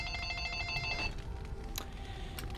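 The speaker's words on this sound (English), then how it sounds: "once again, phone." A phone rings in the video game Dragon Age: Origins, a short electronic ring with bright repeating tones that fades out after about a second, leaving faint game background sound.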